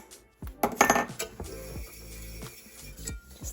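Sugar and ground cinnamon tossed around a buttered metal cake pan, with clattering, clinking knocks of the pan being handled, a loud burst early followed by lighter taps and rattles.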